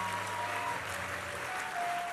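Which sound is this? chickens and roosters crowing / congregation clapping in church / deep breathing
congregation clapping in church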